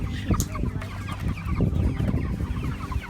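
Cornish Cross meat chickens cluck and murmur in a flock close by, a busy continuous chatter of soft overlapping calls with occasional sharper notes.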